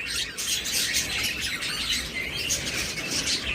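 Albino cockatiels and other pet birds call and chirp continuously in a crowded cage setting at a bird sale, a dense overlapping chorus of bright tweets and squawks with no talk.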